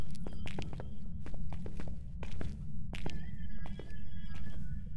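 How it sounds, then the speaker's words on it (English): Footsteps echo through an abandoned building in a ghost-hunting game, a series of fairly regular thuds heard close over a constant low drone. "Do you hear those footsteps?"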